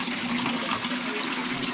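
Cold water running down from the mountains in a stream in Moldova, an even, close, continuous rush and gurgle with no voices over it.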